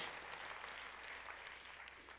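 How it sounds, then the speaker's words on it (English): Audience applause from a crowd at a public address, a steady wash of many hands clapping that holds at an even level throughout the short stretch. "Now go ahead, applaud, because that's the right thing to do."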